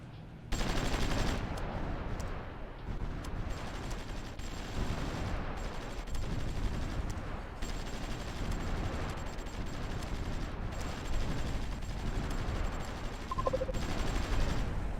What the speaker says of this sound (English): A lot of bombardment on this garrison here.